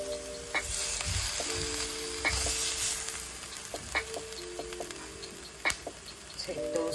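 Steaks sizzle steadily on a George Foreman electric grill, a continuous close hiss and crackle with brief tonal beeps scattered throughout.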